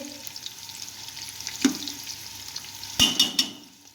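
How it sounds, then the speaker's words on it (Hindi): Onions fry golden in oil with a gentle, low sizzle, broken by a few sharp clatters and stirring knocks from the pan near the end. "इसमें हम बहुत ही अच्छा सा प्याज को गोल्डन कर लेंगे"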